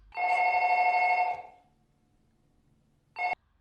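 A telephone bell in the film Ringu rings in one long electronic trill, then goes silent before a second short ring begins and cuts off.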